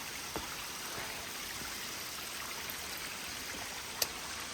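Stream flowing beside a hiking trail near Bridal Veil Falls in Index, Washington, a steady, moderate rushing babble with a couple of faint brief knocks, no voices.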